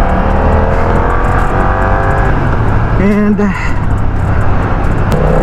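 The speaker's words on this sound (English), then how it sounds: "The engine is very responsive." A BMW F900R motorcycle hums along under a steady wash of wind and road noise, then gives one short, rising throttle rev midway; a voice briefly speaks.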